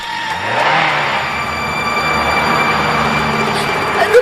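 A cartoon car engine revs steadily with a rising low drone and broad mechanical noise, loud and continuous without speech.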